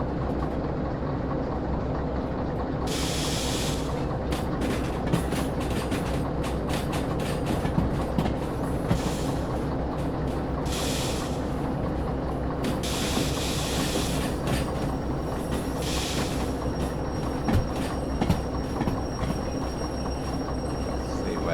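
A train rolls steadily along rails in the Derail Valley railway simulator, a continuous loud rumble with rhythmic wheel clatter and intermittent hissing, unbroken throughout without talk.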